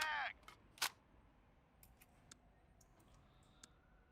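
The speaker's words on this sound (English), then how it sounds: "Let's get a quick reload in. Changing" A weapon magazine reload in the tactical shooter Door Kickers 2, heard as a sharp burst followed by a series of quick, dry metallic clicks and clacks spread over a few seconds against a quiet background.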